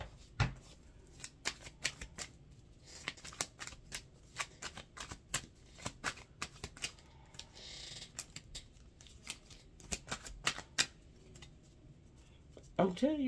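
Tarot cards are shuffled and riffled close by in repeated sharp flurries of papery snaps and clicks with brief pauses between bursts, and a voice speaks briefly at the end.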